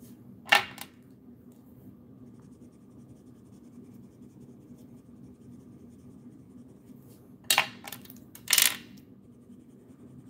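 Felt-tip brush markers striking a glass mat while colours are swatched: one sharp tap near the start, then a quick cluster of two or three knocks near the end, over a quiet steady room hum.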